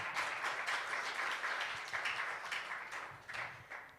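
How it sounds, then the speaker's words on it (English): A live-streamed talk's audience applauds steadily after a speaker, a broad wash of clapping that thins slightly toward the end with a few sharper claps standing out. "Another round of applause for Mr. Everest,"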